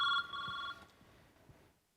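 A telephone rings loudly in a comedy sketch with a steady ringing bell tone, which then cuts off and leaves low background murmur.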